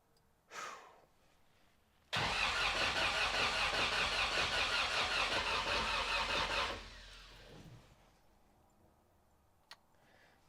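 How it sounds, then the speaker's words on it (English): Engine of a 1979 Toyota Corolla with a newly installed built engine cranking over on the starter, a loud, even, rapid churning that runs about four and a half seconds and then winds down, with faint thumps before and after. "Well, that's a bit of cranking with no oil pressure."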